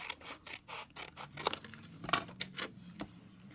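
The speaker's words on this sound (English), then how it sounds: "I'm going to cut off a piece of this grass" Scissors snipping a piece of paper grass for a handmade squirrel card, a run of quiet close crisp cuts in uneven rhythm with a few sharper clicks, no talking.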